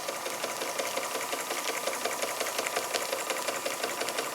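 A Jensen Model 75 model steam engine, still breaking in, runs rough and continuously with a fast, uneven chugging rattle, steady and close, with no voices.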